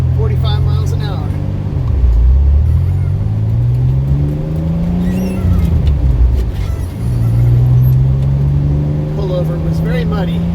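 A 1985 Pontiac Fiero GT drives a Kentucky backroad on State Route 22. Its engine drones steadily from inside the car, pitch sinking and climbing through gear changes under continuous road and wind rumble.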